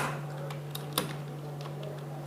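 Keys clacking steadily on a computer keyboard while Python Tkinter code is typed, close and fairly quiet over a low steady hum, with one sharper keystroke standing out.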